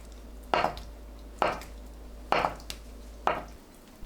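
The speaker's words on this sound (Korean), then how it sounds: "두부를 가로 세로 1cm 크기로 썰어주세요" A kitchen knife cuts tofu into small cubes for Korean cheonggukjang stew, giving four evenly spaced, sharp chops on a cutting board with quiet pauses between them.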